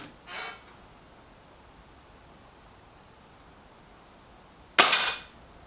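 Two sharp shots ring out from an Artemis M11 air rifle fired at a target, a softer crack near the start and a louder snap several seconds later, with quiet between them.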